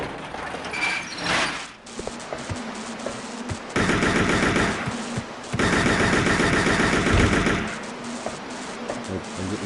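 Kalashnikov rifle fire in Resident Evil Code Veronica: after scattered shots come two long, loud automatic bursts of roughly two seconds each, separated by a brief pause, followed by quieter game sounds.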